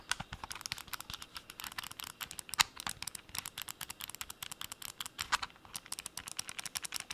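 Mechanical keyboard keys clicking in quick, uneven bursts of typing, crisp close taps at low-moderate volume, heard alone with no talk.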